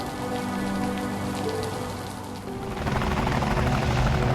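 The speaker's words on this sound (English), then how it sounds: "Military choppers!" Military helicopters in the Liberated video game thrum under heavy rain, a loud continuous rotor drone with rain hissing across surfaces, swelling louder in the second half.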